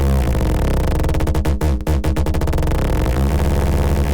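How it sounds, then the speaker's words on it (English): A buzzy modular synthesizer pulse repeats in an exponential rhythm that speeds up and slows down, loud and dense with a brief dip near the middle. "we're going to try to create an exponential rhythm with it"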